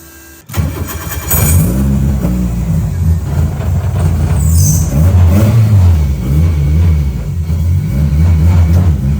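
A Mitsubishi Lancer, converted from front-wheel to rear-wheel drive, revs hard on a dyno. The engine is loud and close, climbing and dropping through repeated rev cycles.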